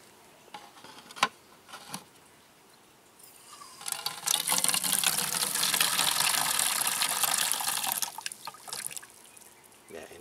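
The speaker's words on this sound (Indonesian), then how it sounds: "Jadi ini air lindinya saya campur dengan air dulu." Liquid fertilizer leachate being poured and mixed with water for feeding melon plants, heard as a steady pouring gush in the middle, framed by a few small splashes and trickles before and after.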